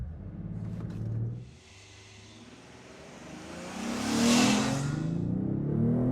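A Lexus IS 350 F-Sport in Sport Plus mode accelerates hard, engine note dropping briefly at a shift then climbing steadily in pitch and loudness into a strong rising roar, heard from inside the car.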